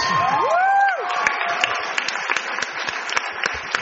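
A Comic Con panel audience breaks into applause with a whoop or cheer rising at the start, followed by scattered distinct claps that thin out, fairly close and moderately loud.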